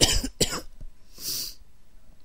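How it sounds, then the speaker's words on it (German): A man coughs twice in quick, sharp bursts close to the mic. A breathy, throat-clearing hiss follows, then quiet. "Oh, ich muss husten."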